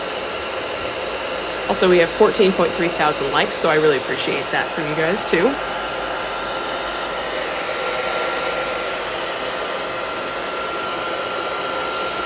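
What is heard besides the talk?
hair dryer drying watercolor paper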